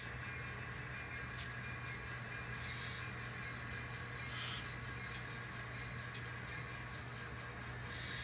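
An N scale model train of CSX cars runs slowly over a track switch, a quiet steady motor hum broken by a few light clicks and ticks from the rails.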